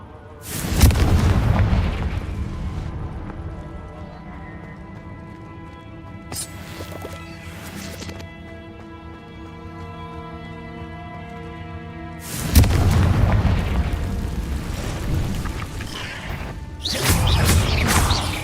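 A Confringo fire spell in Hogwarts Legacy sets off booming explosive bursts, one big blast near the start and more at about 6 s, 12.5 s and 17 s, over a low rumbling game soundscape.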